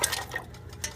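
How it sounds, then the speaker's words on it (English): Vegetables for chicken soup dropped into a cooking pan, giving a few light clattering knocks and rustles at close range, fairly quiet. "I'm just going to go ahead and put those in the pan"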